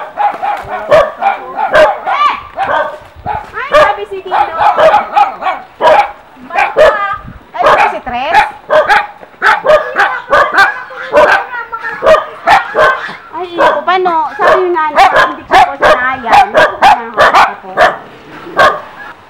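Dogs at a rural Filipino home bark repeatedly in loud, close bursts with yips and whimpers, a steady run of overlapping barks throughout.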